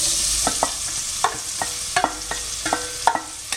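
Onions frying in a pan after ground cardamom, stirred with a spoon or spatula in a steady run of scraping strokes over a soft background sizzle, close and moderately loud, with no talking.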